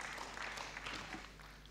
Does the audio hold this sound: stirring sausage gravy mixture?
no